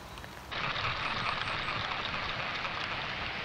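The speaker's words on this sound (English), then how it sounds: "The rain's coming down quite heavily now." Heavy rain falls on a riverbank while grayling fishing, a dense steady patter that swells suddenly after a quieter start and then holds as a close, continuous hiss.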